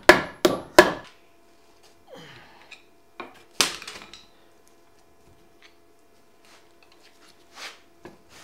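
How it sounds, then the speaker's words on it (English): Metallic knocks and scrapes ring out from an axle differential case on a Jeep CJ5 as a reversed bar clamp spreads it, a few sharp clanks early, then sparse quieter taps close by. "I'm just using a reversed bar clamp to give it a little help. I'm just prying it out like everybody else does."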